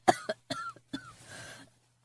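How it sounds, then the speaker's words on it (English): A woman's coughing fit: a few sharp, close coughs in quick succession, then a rougher, drawn-out hacking cough that trails off into a raspy exhale, with no talking. "She pauses for a minute while she has a coughing fit."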